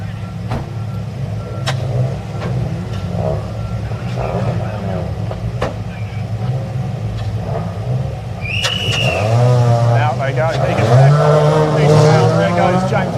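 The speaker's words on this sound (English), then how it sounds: "The roar of the BRSCC Fiesta Junior Championship qualifying live." Ford Fiesta race cars roar through qualifying for the BRSCC Fiesta Junior Championship at Cadwell Park circuit, a steady engine drone rising as a car accelerates past near the end, with a commentator talking over it.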